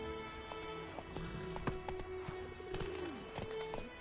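Horse hooves clip-clopping in the video game The Witcher 3, a brisk run of hoofbeats under a steady ambient tone, moderately close and fairly quiet, with no talk.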